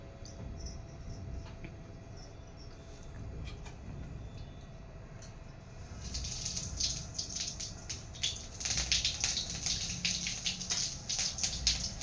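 Tap water runs and splashes while leafy village greens are washed by hand before cooking, a steady rushing wash that grows louder and brighter partway through, with faint insect chirps in the background.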